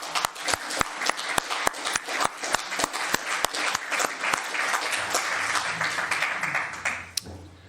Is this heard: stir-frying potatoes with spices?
no